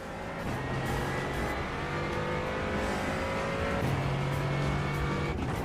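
A Porsche 992 race car engine drones steadily in a racing video game, its pitch stepping up through gear changes alongside other cars in a continuous, moderately loud pack sound.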